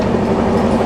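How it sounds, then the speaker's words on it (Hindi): The Uttar Sampark Kranti express, train 12445 from Delhi to Katra, runs at speed with a loud, steady, close-up rumble of wheels and carriages and no other sounds on top. "गाइस ये स्पीड चेक करो कितनी बढ़िया ही रफ्तार में दौड़ रही है हमारी ट्रेन इस टाइम।"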